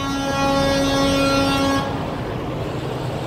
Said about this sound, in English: There's other people honking